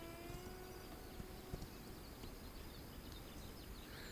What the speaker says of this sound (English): This is our horse.